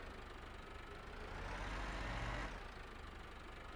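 A tractor engine in Farming Simulator 15 hums steadily at mid-low pitch, swelling briefly louder as it strains before settling back, with no one talking.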